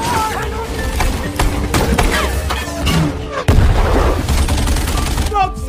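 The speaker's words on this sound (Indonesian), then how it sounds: "Soto yang merupakan rekan Nikolai langsung memberikan tembakan." Loud, rapid gunfire rattles in bursts from a World War II film battle against Nazi troops, sharp cracks layered over booming thuds and a heavy rumbling battle din, with an Indonesian narrating voice underneath.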